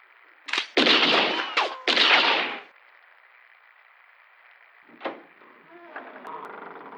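Gunshots in a radio play, a burst of several loud, close, cracking shots in quick succession, followed by quieter clatter and faint sounds.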